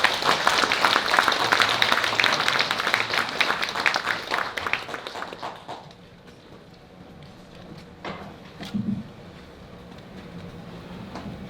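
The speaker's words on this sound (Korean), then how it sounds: "모두 박수로 맞아주시면 감사하겠습니다" An audience at a forum welcomes a professor with dense clapping for about five seconds, then the applause dies away into quiet room noise with a few scattered sounds.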